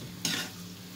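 Rice noodles (bihon) sauté in a pan with a quiet sizzle, and one sharp stirring scrape or toss stands out briefly.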